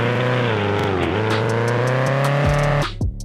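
Rally car engine from the CarX Rally mobile game, a steady loud revving drone with rising pitch that holds for almost three seconds, then cuts off abruptly with a brief gear-shift or skid-like burst at the end.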